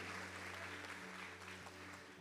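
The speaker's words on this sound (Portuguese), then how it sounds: "Você pode aplaudir ao Senhor." A church congregation applauds in praise during a sermon, a steady wash of clapping heard faintly from a distance over a low electrical hum.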